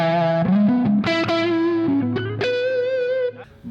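Electric guitar played through a Chibson humbucker neck pickup installed in a Gibson, a boomy, muffled distorted tone with effects, several sustained notes and bends played alone, close and loud.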